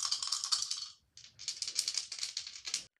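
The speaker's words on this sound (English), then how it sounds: "I'm gonna go ahead and give you all the ASMR dice rolling." Tabletop RPG dice, a set that includes a D20, tumbling and clattering across a hard surface in two bursts of rapid clicks, separated by a short pause, close and fairly bright.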